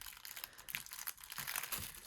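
A portable mini sealing machine is drawn quickly along a plastic bag, giving a faint crinkling rustle of plastic close by in uneven bursts.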